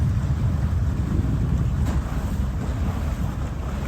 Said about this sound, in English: It's very rare that we get wind from the north like we have today.